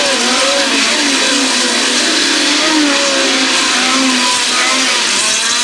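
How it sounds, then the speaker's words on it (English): Power I midget race cars at US 36 Raceway, their engines revving hard in a steady, loud, continuous roar with shifting pitch as the pack runs the track; no talk over it. "Tim Steiner makes the left-hand turn into the infield."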